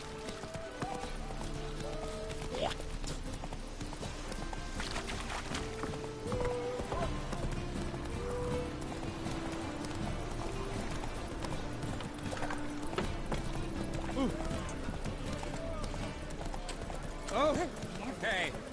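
Horse Roach's hooves clip-clop in a steady running rhythm in The Witcher 3, under game music and ambient sound with voices talking over it.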